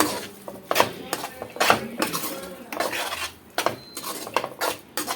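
A spoon stirs and scrapes mango semiya kesari ingredients in a metal pan, giving a series of close, irregular clinks and scraping strokes with short pauses between them and no talk.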